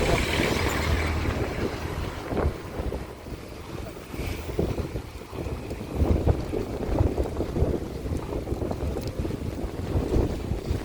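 Strong wind outdoors at a traditional village in Tabanan, Bali, buffets the microphone in a loud, continuous gusty rumble that rises and falls throughout.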